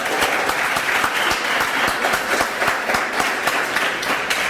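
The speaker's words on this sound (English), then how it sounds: "So let's give a round of applause to Howard." A room full of listeners gives a warm round of applause for Howard at a talk, the clapping steady and close with distinct individual claps popping out of the wash.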